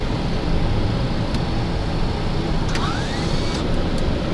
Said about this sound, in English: Both engines stabilized.